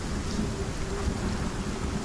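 Video game thunderstorm: steady rain hiss with a low rumbling undertone of thunder, continuous and fairly loud, no voices.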